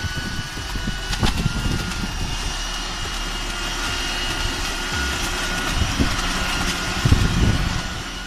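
A leaf blower vacuum runs with a continuous loud roaring whoosh, steady airflow noise with some low rumble and a few bumps.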